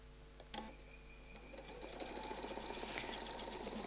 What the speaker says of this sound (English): I'm going to sew around this first feather.